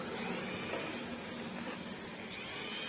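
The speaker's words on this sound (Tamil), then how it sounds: "இது வந்து அப்படியே கொஞ்சம் கிரைண்ட் பண்ணி விடணும்." Grinding on a damaged area near a loose lorry wheel bolt, a steady, fairly faint abrasive whir that holds unbroken for a few seconds.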